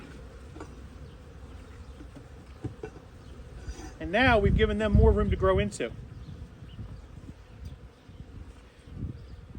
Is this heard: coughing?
no